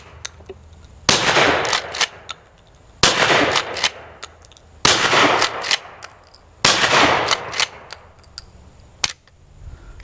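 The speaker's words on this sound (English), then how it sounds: "Shoot a bunch of shots out here." Shots fired outdoors at an orange juice carton during a windy Indiana crow hunt, four loud sharp reports spaced a couple of seconds apart, each trailed by a ringing echo and bursts of clatter, with wind noise between.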